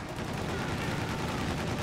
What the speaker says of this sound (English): in the rear, it shoots the like a cannon, like a flat cannon